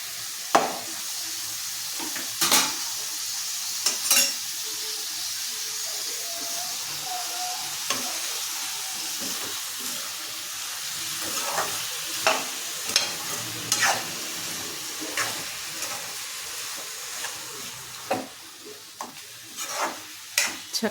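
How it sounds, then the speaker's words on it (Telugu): Thinly sliced cucumber pieces sizzle in hot oil in a pan while a spoon scrapes and stirs them in irregular bursts, close up with no speech. "సన్నగా కట్ చేసి పెట్టుకున్న దోసకాయ ముక్కలు వేసేస్తున్నాను."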